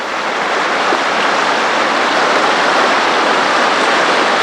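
Floodwater flows across a road, a loud, continuous rushing wash close by with no pauses and no voices.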